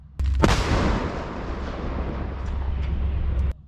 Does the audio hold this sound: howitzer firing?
yes